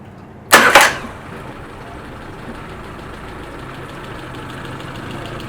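A sharp burst as a Yamaha F50A outboard motor starts up, then a steady low engine idle running evenly for several seconds.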